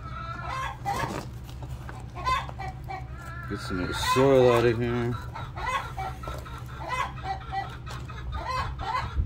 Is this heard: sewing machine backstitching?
no